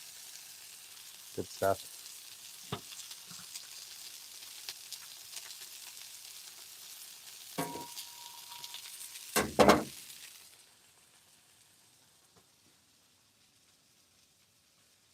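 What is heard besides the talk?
burgers sizzling on a griddle after being flipped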